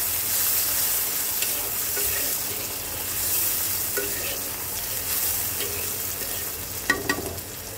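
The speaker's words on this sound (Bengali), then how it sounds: "পেঁয়াজটাকে একটু হালকা ভেজে নেব।" Chopped onion lightly frying with cumin and bay leaf in a pan, a steady close sizzle with occasional stirring scrapes and a sharper clink near the end.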